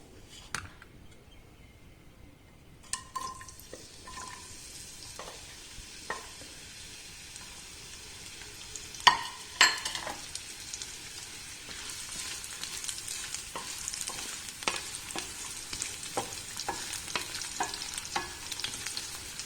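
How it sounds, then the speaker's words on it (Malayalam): Veldt grape (chengalam paranda) frying in sesame oil, a quiet start then a sharp crackle as it hits the oil, building into a steady sizzle with intermittent pops and stirring scrapes, no speech. "ആദ്യം നമ്മൾ ഈ ചങ്ങലമ്പരണ്ട ഒന്ന് വറുത്ത് കോരിയെടുക്കണം ഒന്ന് ഫ്രൈ ചെയ്തെടുക്കാം"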